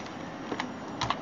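Computer keyboard keys tapped while entering code for a calculator program, a handful of light clicks clustered near the middle and end, fairly faint and with no voices.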